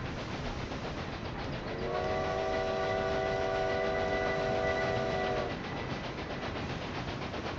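Train in the Railway Empire 2 video game rolling steadily along the tracks near a cargo station, with a constant rumble throughout and a sustained multi-tone horn blast sounding for a few seconds in the middle.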